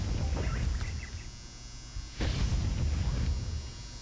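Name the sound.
clothes dryer buzzer signalling the end of a cycle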